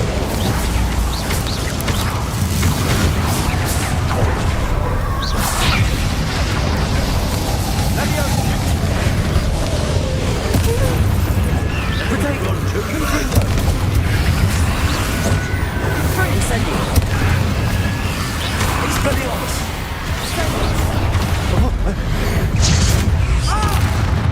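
Spell explosions from Confringo and Incendio in the video game Hogwarts Legacy boom and crackle repeatedly over a constant roaring background, loud and dense, with spoken voices throughout.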